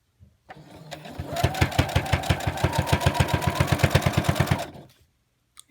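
A sewing machine stitches fabric for a bow tie in one short, fast run of even, rhythmic needle beats, close and clear, with the motor winding up at the start and winding down at the end.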